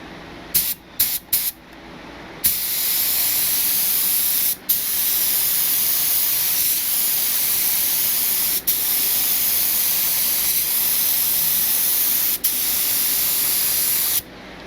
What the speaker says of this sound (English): the paint is spraying out pretty wet